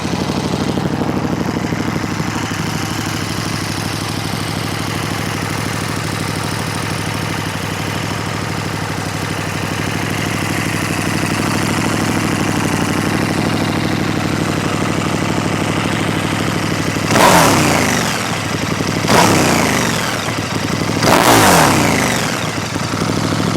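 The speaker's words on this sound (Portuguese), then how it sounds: "vamos ligar a moto para vocês ouvirem o som original com o catalisador" A KTM 1290 R Super Duke motorcycle with its original exhaust and catalytic converter idles steadily up close, then gets three sharp throttle blips in the final seconds, each rising and dropping back to idle.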